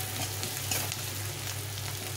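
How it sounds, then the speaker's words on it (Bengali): Chopped onions fry in a pan for a duck egg curry, a steady close sizzle with soft crackles and a few stirring scrapes, no voices. "পেঁয়াজটাকে একটু লাল লাল করে ভেজে নিতে হবে"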